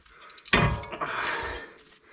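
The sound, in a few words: brake pads being popped off a Subaru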